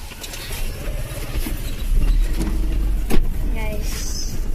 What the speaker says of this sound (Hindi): अभी हम गाड़ी में आ चुके हैं